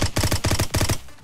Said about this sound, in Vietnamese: có tiếng chân